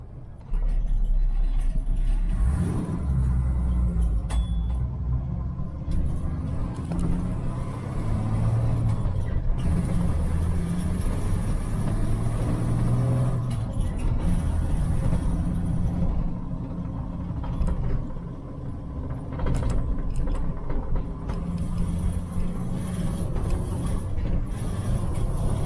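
A Jeep CJ-7 fitted with a Weber 32/36 carburetor revs and drives, its engine rising and falling under a constant mechanical rattle and clatter from the body, loud and close for the whole stretch.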